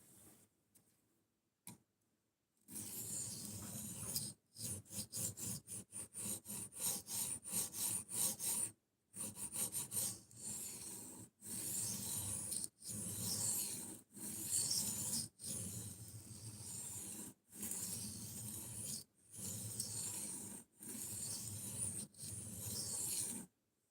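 Knife sharpening on a stone or file, a run of repeated rasping strokes in steady bursts separated by short pauses, close and fairly loud, with no talking.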